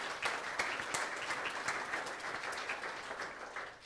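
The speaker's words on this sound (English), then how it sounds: "yes, let's applaud them." Conference attendees at IUI 2016 applaud the sponsors, a steady wash of many hands clapping at moderate distance, fairly quiet and unbroken for several seconds.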